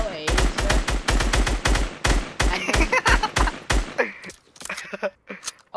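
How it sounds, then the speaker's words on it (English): Rapid bursts of video game gunfire, loud and close, with dense automatic volleys for about four seconds before thinning into scattered shots and quieter game sounds. "Oh, he's shooting back!"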